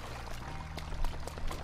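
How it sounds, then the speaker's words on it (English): Water pours and streams steadily in Zelda: Breath of the Wild, a continuous rushing wash with a few brighter splashy surges, heard alone without talk. "There's water for some reason."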